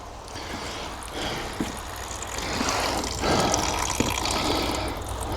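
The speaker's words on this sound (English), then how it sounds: "It's still draining out at the bottom, so we'll leave it for a moment, let it drain out." Water drains steadily out of the bottom of a koi tank, a continuous trickling, gurgling flow heard up close with slight swells in volume.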